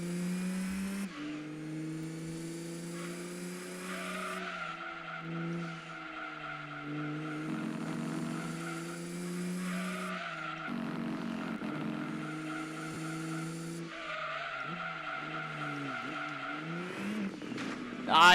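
A car slides through a failed handbrake turn in Gran Turismo 2, with engine drone and a long, steady, whining tire skid, loud and close, and brief shifts in pitch as the car loses grip.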